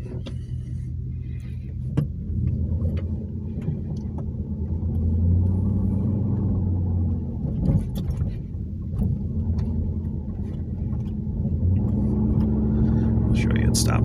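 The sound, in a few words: 1998 Dodge Durango driving on test drive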